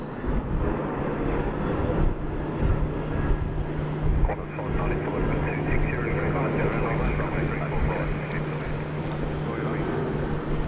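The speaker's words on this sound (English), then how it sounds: "And a Jetstar taxiing out here." A Jetstar airliner taxiing at Sydney Airport at sunset, a loud, steady engine rumble and hum with wind buffeting the microphone, continuous throughout with no talk.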